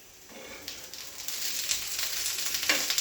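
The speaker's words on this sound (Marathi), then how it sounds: "थोडंसं तेल टाकलेलं आहे आणि मस्तपैकी अशी भाजून घेणार आहोत" Steady, crackling sizzle of cut eggplant roasting in a little oil on a hot griddle, growing slightly louder and busier over a few seconds with no voices.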